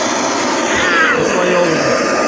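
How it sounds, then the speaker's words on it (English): A blacksmith's forge furnace roars with a steady, loud broadband rush that runs unbroken throughout, with a voice faintly present beneath it. "Going back into the furnace right now."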